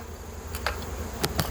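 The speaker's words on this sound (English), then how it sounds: "Look at all the bees on top." Honeybees swarming over the top of an opened beehive, a faint steady buzzing with a few brief louder passes of bees flying close, no talk.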